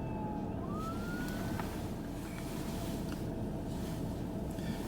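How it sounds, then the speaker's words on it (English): An ambulance siren passing a patrol car near a bridge over a lagoon: a faint, rising wail drifts up through heavy, constant road and wind noise, with no talk. "I got an ambulance coming by."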